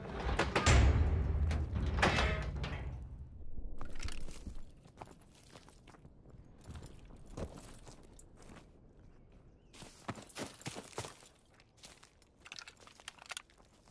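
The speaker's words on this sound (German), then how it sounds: "Öffnen Sie die Tür." A door creaks and slides open in the World War II shooter game Call of Duty WW2, after a loud opening burst, followed by scattered footsteps, shuffles and clicks at low level.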